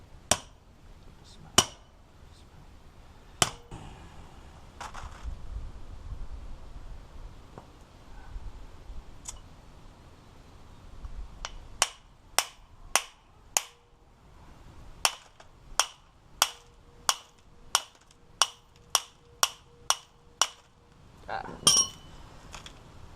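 A metal piston is set on top of a press for gunpowder pucks with several sharp metallic clinks, then a quick run of about a dozen evenly spaced taps near the end, close and distinct against a faint background.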